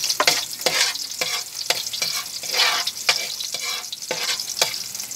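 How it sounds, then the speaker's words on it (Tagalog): Garlic and onion sautéing in a hot pan for a mixed vegetable guisado, a bright crackling sizzle broken by rhythmic stirring scrapes about twice a second, close and clear with no talking. "unahin mo na po ang bawang, gisa,"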